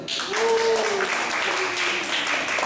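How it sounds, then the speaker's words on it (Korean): Audience applause at a summer camp lecture, a steady broadband patter of many hands filling the room for a few seconds, with a faint voice or tone over it. "박수 한번 쳐주세요."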